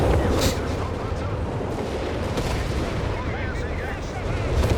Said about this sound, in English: Great hit from the Sturm Panzer